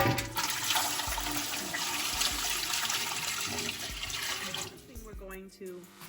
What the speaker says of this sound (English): And we're gonna pour our water.